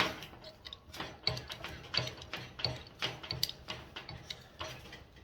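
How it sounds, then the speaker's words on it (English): A hand crank on a dimple die, clamped and tightened with a grub screw, clicks through a steady run of close, crisp ratchet ticks in uneven bursts, with no talking. "And then we just crank this handle."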